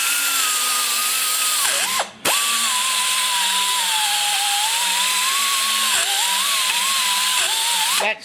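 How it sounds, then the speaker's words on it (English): A power tool with a carbide blade cutting a bolt hole, a loud steady high whine whose pitch dips and wavers as the blade skips and chatters, with a few brief stops, close and alone. "That's the carbide blade skipping and jumping."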